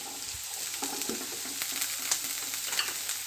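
Half a cup of boiled peas sizzles and fries in a pan for vegetable cutlets, with a steady crackling hiss and occasional stirring scrapes, close and fairly loud without voices.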